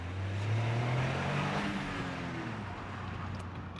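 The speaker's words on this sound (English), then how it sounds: "here's a sound test of this exhaust" Toyota GR Yaris exhaust dropped into first gear, a steady loud engine drone with a low rising harmonic tone that swells and settles, heavy broadband rumble throughout with no speech.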